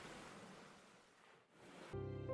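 Sea waves wash in a continuous broad rush of surf that dips briefly, then gives way to music for the last half-second.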